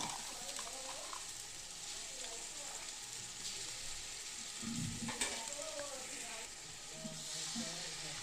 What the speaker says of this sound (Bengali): পেঁয়াজটা এবার খুব ভালো করে ভাজা করে নেব পেঁয়াজ ভাজা হয়ে গেলে চার টেবিল চামচ আদা রসুন বাটা দিয়ে দেবো